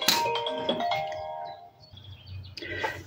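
Phone ringing indoors at a card-crafting table, a bright chiming ringtone-like tone repeating in short melodic bursts that sound fairly close and clear, with no voices.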